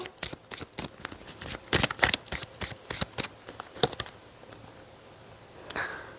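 A deck of angel oracle cards is shuffled for a tarot reading, giving rapid, irregular riffling clicks and slaps that crowd together, then thin out to a few scattered taps.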